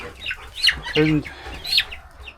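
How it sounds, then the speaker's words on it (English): A black and gold Americana chicken, probably a rooster, gives a few short clucks and squawks close by, with a brief voiced call in the middle. "Pretty sure this is Americana because the only bird I've got that's black and gold would be that Americana up there"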